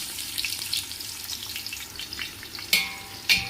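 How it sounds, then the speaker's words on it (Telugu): Onions frying in a pan of hot oil with whole spices for mutton biryani, a steady close sizzle with a few sharper crackles and stirring scrapes. "ఇప్పుడు ఇందులోకి ఆనియన్ వేసుకుందాం."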